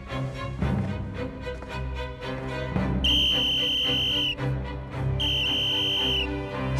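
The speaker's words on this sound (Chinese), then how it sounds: "吹哨子" A shrill whistle blows twice in long steady blasts over a dramatic music score, sharp and prominent in a wartime drama scene.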